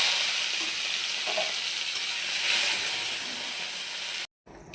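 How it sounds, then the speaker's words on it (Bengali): Prawns fry in hot oil, a loud, even sizzle with light scraping of a spatula, close up and without voices, ending in a sudden cut to near silence. "এবার চিংড়ি মাছগুলো ভেজে নেব।"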